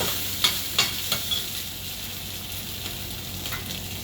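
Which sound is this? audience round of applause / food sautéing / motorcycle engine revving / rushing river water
food sautéing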